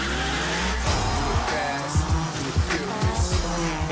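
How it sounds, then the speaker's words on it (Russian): Race cars drifting on a track, with tires squealing and skidding over loud engine roar in a dense, continuous burst, layered with trailer music. "Это дрифтинг. В смысле занос?"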